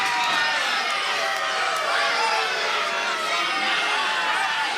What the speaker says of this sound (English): Armani's really got this crowd worked up.